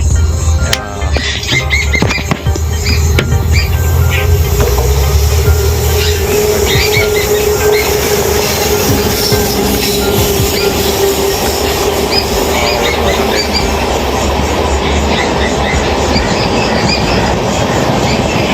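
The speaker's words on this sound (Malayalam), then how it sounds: "ഇപ്പൊ അവിടുന്ന് ഒരു ട്രെയിൻ വരുന്നുണ്ട്, ഒച്ച വെക്കുന്നുണ്ട്" A train passes by a tunnel on the Konkan Railway near Mangalore, making a loud, close, continuous rumble with rhythmic clickety-clack and high wheel squeal that persist throughout.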